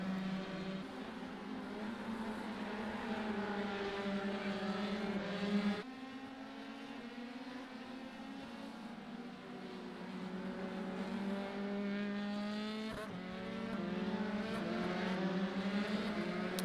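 Formula 1 racing cars in a video game, a steady layered engine drone with several whining tones shifting pitch, briefly dropping and rising as cars run at pace; no talk.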